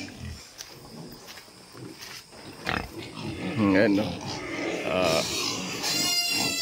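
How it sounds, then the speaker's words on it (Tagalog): Pigs at De Jesus Farm in Sablayan, Occidental Mindoro grunt and oink at feeding time, hungry and crowded together. Their calls rise and overlap through the clip under someone talking nearby. "Guys, puro ano yan, baboy ang laman."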